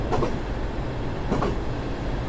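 Train running in the JR East Train Simulator game, a steady loud rumble of rolling wheels with two brief rattling surges.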